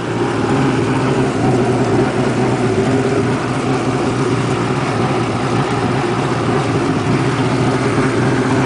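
A jet ski's two-stroke engine idles steadily and loudly the whole time just after startup, a continuous low rumble with no revving.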